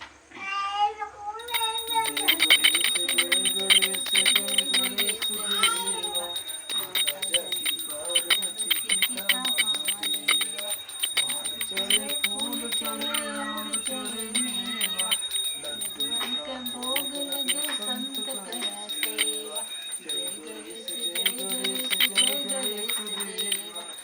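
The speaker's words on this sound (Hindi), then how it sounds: "घंटी बजाओ" A small prayer bell rings continuously and brightly throughout while several voices sing a devotional chant to Ganesh together during a Karva Chauth home prayer.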